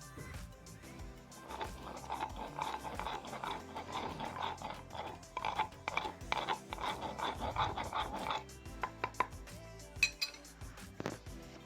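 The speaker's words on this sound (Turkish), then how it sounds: "Ben havanda ezmeye çalıştım size göstermek için." Charcoal crushed in a mortar, heard as a steady run of rapid hard knocks and gritty grinding clinks, fairly close, with no one talking.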